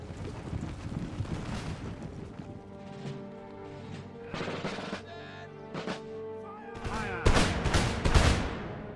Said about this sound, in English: So let's engage them with musket fire.